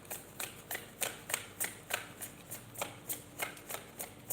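Tarot cards being shuffled in a steady, even rhythm of soft riffling bursts, about a dozen in quick succession, close and fairly quiet with no talking.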